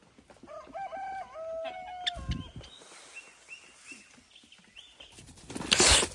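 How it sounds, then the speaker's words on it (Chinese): A large rooster crows in a series of rising harmonic calls among other birds outdoors near a lychee tree, with sudden louder bursts of scuffling or wing flapping partway through and again near the end. "这大公鸡又偷袭我，老是偷袭我"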